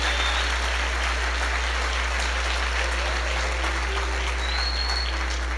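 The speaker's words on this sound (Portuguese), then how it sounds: "eu quero que você dê um aplauso a Jesus" A church congregation applauds steadily, a dense wash of clapping from many hands that holds at an even level throughout, with a low hum underneath.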